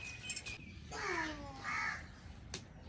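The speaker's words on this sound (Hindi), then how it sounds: "आप ही कह रही हैं कि कल से कौवा बहुत ज़्यादा बोल रहा है" A crow caws outdoors in a village setting, several loud, harsh calls in close succession and fairly near, with a short sharp sound near the end and no talking.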